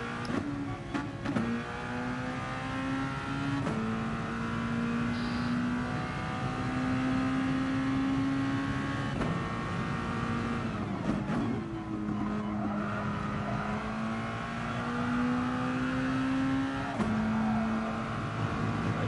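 A Red Bull junior race car laps Monza alone in a racing game, its engine whining in rising tones that drop sharply at each gear shift, with tire noise and repeated acceleration runs.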